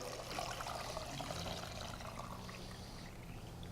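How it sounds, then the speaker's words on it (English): Steady stream of chicken stock, about six cups, pouring into a pot, a continuous splashing gush that stays even throughout, close by with no talking. "I have here about 6 cups of chicken stock I'm going to pour right in"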